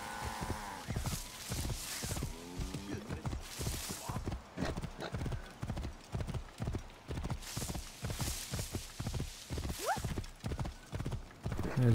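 Steady, rhythmic clip-clop of horse hooves trotting close by in Assassin's Creed Origins, with a brief whinny and some ambient game sounds underneath.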